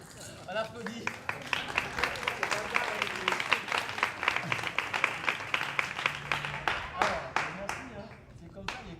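Audience at a participatory African storytelling performance breaks into scattered, uneven clapping, individual claps distinct and fairly close, with a voice briefly heard amid the applause.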